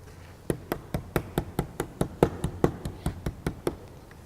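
A wooden mallet taps repeatedly on a work table, about sixteen sharp, evenly spaced knocks at close range with no talking.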